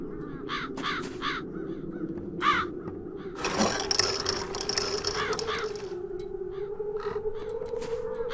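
Crows cawing in The Dark Eye: Chains of Satinav video game, a series of harsh repeated caws scattered over a low steady hum, with a burst of rustling noise partway through.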